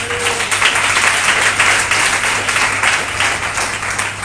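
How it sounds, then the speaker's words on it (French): A congregation applauding at a church service in Côte d'Ivoire, a steady, dense wash of clapping that holds for several seconds at fairly close range with no voices on top. "Cela mérite vraiment des acclamations"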